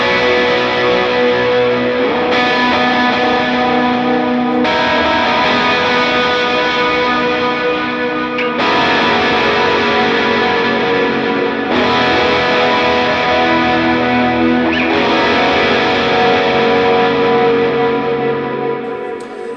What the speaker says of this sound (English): It also turns on my another delay so I can get a more gritty, more washy sound.